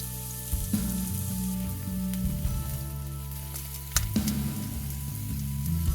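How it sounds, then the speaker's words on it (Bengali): Cauliflower florets fry in a little hot oil in a frying pan, giving a steady, close sizzle and crackle over a low hum. "একটা ফ্রাইং প্যানের মধ্যে অল্প তেল দিয়ে সেই ফুলকপিগুলোই অ্যাড করেছি"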